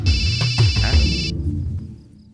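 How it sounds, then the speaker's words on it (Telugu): A mobile phone ringing in a Telugu film scene: a bright electronic ringtone sounds for about a second over low voices and movement, then cuts off, leaving quiet room sound. "ఫోన్ ఎవరిది?"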